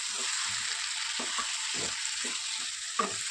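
Bottle gourd curry sizzles steadily in oil in a pan while a spoon stirs it through, with soft scraping strokes and a small clink near the end.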